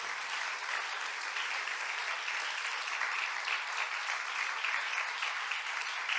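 A church congregation bursts into sustained applause, a thick uniform wash of many hands clapping at an even level throughout, with no talking on top.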